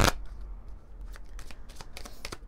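Oracle cards shuffled by hand, opening with a sharp riffle then a steady run of soft flicking, slapping card sounds, close and fairly quiet.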